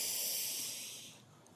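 Slow, deep breath drawn in during a calm guided group meditation, a soft airy hiss that swells and then gradually fades, quiet and close with no talking.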